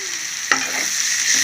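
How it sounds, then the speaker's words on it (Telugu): Onions and green chillies fry in a pan with a bright, steady sizzle, broken by a single sharp stirring scrape partway through. "కొంచెం ఉల్లిపాయలు బాగా వేగనివ్వాలి ఇందులో పచ్చిమిరపకాయలు వేసుకున్నామండి"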